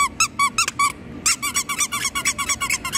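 Squeaky toy lion squeezed over and over in a store aisle, producing a rapid run of loud, high-pitched squeaks in quick bursts, with a short pause before a second steadier series, no talking.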